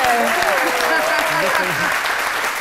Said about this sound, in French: c'est à un grand de la communication ivoirienne, Joseph Ondjou, que je vous demande d'applaudir